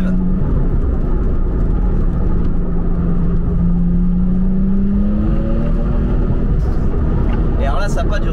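A Porsche 996 RTS3 engine pulls in third gear from about 3000 to 4000 rpm, a loud steady drone whose pitch climbs smoothly, heard close from inside the car with talk over it.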